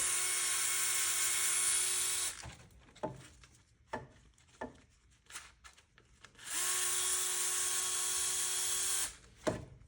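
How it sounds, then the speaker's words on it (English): A Snap-on nano access driver whirring close up as it backs out 10 mm coolant flange bolts on a BMW N54 engine, two high-pitched motor bursts separated by clicks and metallic handling sounds. "we're gonna use this nano access driver from Snap-on. Makes it a hell of a lot easier to get these bolts out."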